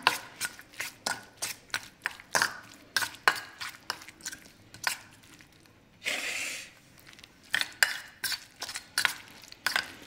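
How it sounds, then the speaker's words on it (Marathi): Roasted garlic being stirred and mixed in a pan for Maharashtrian brinjal bharit, giving a steady run of close scraping and clinking strokes with a short burst of sizzle partway through. "आता हे सगळं व्यवस्थित मिक्स करून घेऊया छान"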